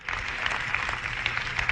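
A congregation applauds during a Christian sermon, steady clapping from the crowd in a hall, fairly soft and continuous with a low rumble underneath.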